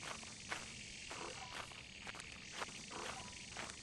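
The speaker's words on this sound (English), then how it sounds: "More bees." Bees buzz faintly on an alien planet in a video game, a low, continuous drone with repeating soft pulses and a few brief chirps.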